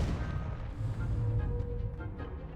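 A Confringo fire spell blasts in Hogwarts Legacy, a dull, low booming burst that rumbles and slowly fades over a couple of seconds.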